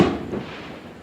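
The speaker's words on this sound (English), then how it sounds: "How about those fireworks, huh? Those are loud" New Year's Eve fireworks in Hawaii bursting with a sharp loud bang at the start, a rumbling echo trailing off, and another pop right at the end.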